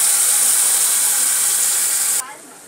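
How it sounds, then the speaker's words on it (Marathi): Soaked lentils hit hot tempering in a pan with a loud, bright sizzle that hisses steadily, then drops off sharply near the end. "या ठिकाणी डाळ जी आहे आपण भिजवली होती ती आपण या फोडणीत टाकायची आहे।"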